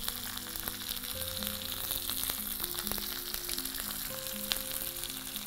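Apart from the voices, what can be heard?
urad dal, chana dal and green chilies frying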